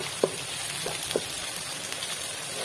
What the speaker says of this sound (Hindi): इसे हल्का सा फ्राई करके तो इसमें टमाटर डाल देंगे